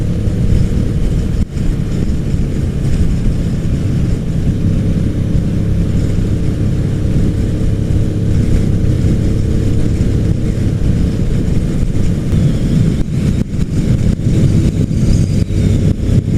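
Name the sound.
motorcycle riding on a highway toward Pikes Peak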